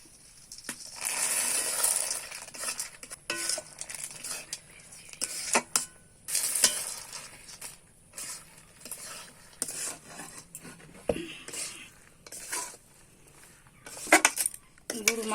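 Peanuts are stirred into melted jaggery in a pan, giving irregular scraping and clattering bursts of spoon against metal, close and moderately loud, separated by quieter pauses.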